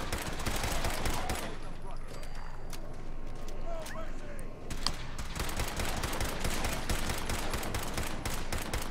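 Rapid semi-automatic rifle fire in Fallout 4, sharp repeated shots in fast bursts with brief pauses, close and loud throughout the firefight.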